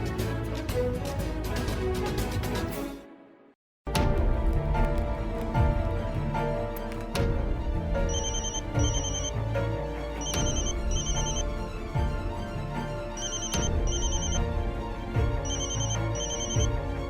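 A telephone rings in repeated pairs of bright electronic trills over loud dramatic background music, with a brief gap of near silence early on.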